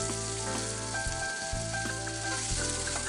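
Green chillies frying in hot oil as they are stirred and mixed, a steady bright sizzle with a few brief scraping pauses from the stirring, close and continuous with no talking.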